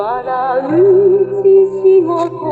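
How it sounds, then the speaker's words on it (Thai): Tonal music plays back from a National RQ-536 cassette tape player, a sustained melody with steady harmonics, fairly loud and clear, with no talking. "อ่าต่อไปฟังระบบเทปนะครับ"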